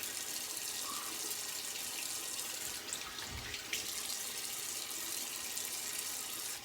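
Cold water runs steadily from a tap into a sink for a rinse after shaving, a continuous close hiss and splash with no talking.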